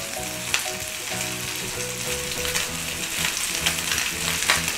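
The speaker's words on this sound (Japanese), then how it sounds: "最初に合いびき肉を炒めていく" Mixed ground meat sizzles and crackles steadily in a frying pan as it browns for a Milan-style doria, with soft music running underneath and no talking.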